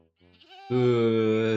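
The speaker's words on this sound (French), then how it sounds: "Oh, la chèvre est là. Il y en a plusieurs de chèvres." Goat bleating in the Minecraft video game, a short rising call followed by a loud, sustained bleat, heard alone and close.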